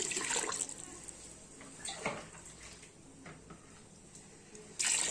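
Water pours steadily into a pot of rice for egg biryani with a continuous splashing rush, close by, brightening at the end as the flow picks up.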